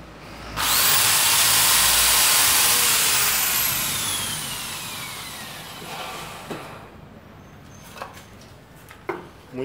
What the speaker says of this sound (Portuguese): Agora eu vou fazer um furinho aqui e evitar que a peça racha